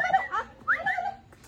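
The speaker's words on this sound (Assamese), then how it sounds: "এই কুকুৰটো ভুকিছে দেখিছে মোক" A dog gives a few short, yelping barks at close range near a house gate, separated by brief pauses.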